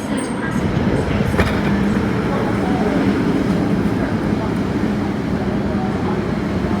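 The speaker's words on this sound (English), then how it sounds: "And here comes the North Point train." A North Point MTR train pulls into Po Lam station, a loud, steady rumble of rail wheels and motors that fills the whole stretch, with a faint voice in the background.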